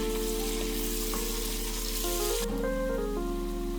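Vegetables frying in rendered pancetta fat for a ragu, a steady close crackling sizzle under a low constant hum, with no talking.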